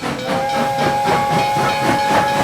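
A steam train lets off a loud, continuous hiss of escaping steam, with a sustained whistle tone running through it for the whole moment.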